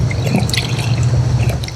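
50-50 coolant being poured into a vehicle's cooling system, a close, continuous trickling and splashing of liquid with small drips, with no talking.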